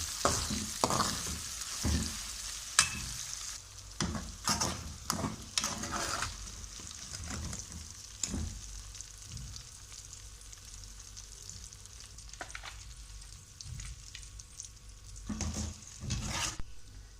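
Dry coriander, red chilli powder and turmeric powder are stirred in a pan for a Pakistani stuffed okra pickle dish, with repeated scraping strokes and bursts of frying sizzle at irregular intervals, close and quiet, with no talk.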